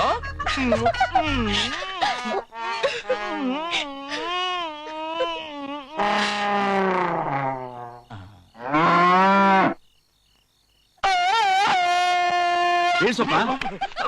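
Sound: buffalo mooing

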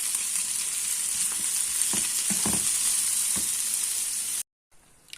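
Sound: onions and peppers sautéing in a pan, being stirred

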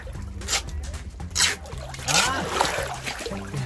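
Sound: water filling a truck to make a swimming pool

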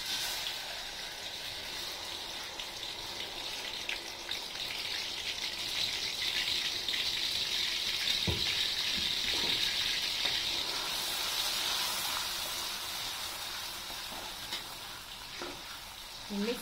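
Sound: sautéing spice paste in a pan

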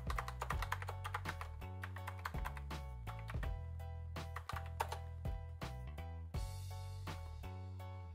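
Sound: typing a password on a computer keyboard

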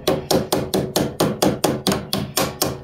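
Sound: tapping parts down while repairing DeWalt 735 planer

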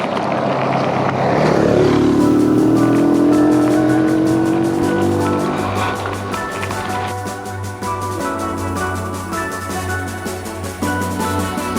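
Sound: quad bike (ATV) riding past on gravel path

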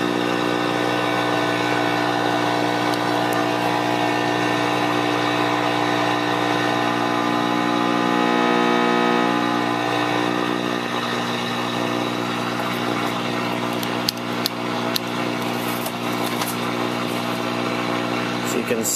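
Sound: RCA CTC16 colour television driven into overload during IF alignment

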